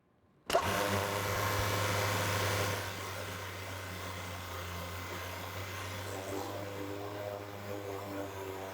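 A Korean-made DCS-M200T 200-bar high-pressure washer starts abruptly and runs with a steady motor drone, loud at first, then settling to a slightly lower, even hum for the rest of the stretch.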